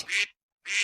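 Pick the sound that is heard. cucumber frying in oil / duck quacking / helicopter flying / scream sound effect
duck quacking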